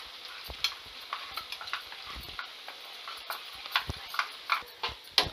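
A thickened soya chilli mixture with cornflour, flour and a little water being stirred in a pan, with irregular spoon scrapes and knocks over a soft sizzle, closely heard and without talking.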